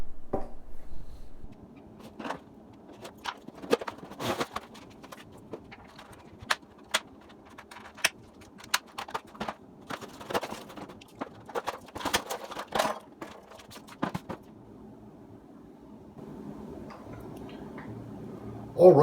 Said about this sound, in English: let's get this thing unboxed